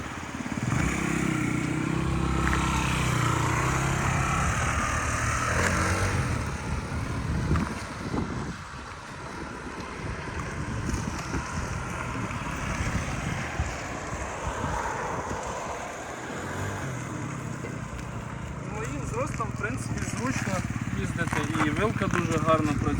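A Yamaha Jog SA39 ZR fuel-injected scooter idles steadily and softly close by, its low engine hum running throughout with wind noise over the microphone, while someone talks over it.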